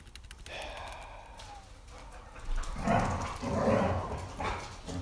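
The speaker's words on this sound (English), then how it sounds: "Dogs are fighting." Dogs growl, gasp and yelp as they scuffle playfully, in several bursts of snarling and whimpering over a few seconds, fairly close, with no talk over them.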